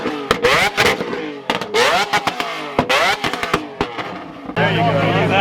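A Lamborghini V12 engine barks through a series of sharp, rapid throttle blips, rising and falling in pitch close by, then settles into a steady idle with a low drone.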